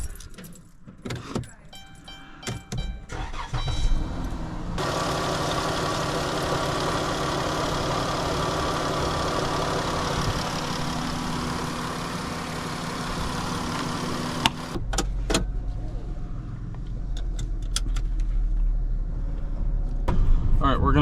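Car engine running steadily with a constant low hum through most of the span, preceded by brief clatter of keys and door handling, during a mobile mechanic's test drive of a car with an overheating fault.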